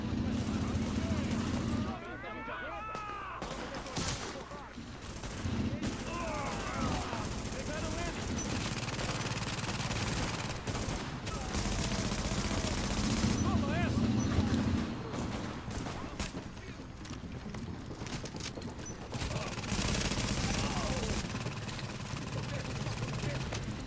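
Bursts of automatic gunfire in the video game The Division at a refugee camp, repeated rapid volleys and shots spread across the stretch, with someone talking over the action.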